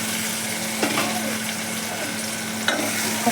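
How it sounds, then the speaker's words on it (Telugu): Boiled potato pieces frying in a pan for a crispy fry, giving a steady loud sizzle throughout with a couple of brief stirring scrapes. "ఇప్పుడు మనం ఉడికించి పెట్టుకున్నటువంటి ఆలుగడ్డ ముక్కలను వేసుకుందాం."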